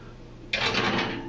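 A kitchen oven heated to 400 degrees is opened to put in a barm brack: a sudden clunk halfway through, then a steady, moderately loud rush of noise.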